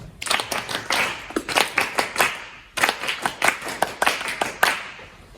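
A group, led by a rhythm teacher, claps in unison in repeated triplet patterns, two phrases of crisp, close claps separated by a brief pause.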